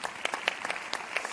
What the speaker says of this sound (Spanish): vaya este aplauso también para la compañera Mari Carmen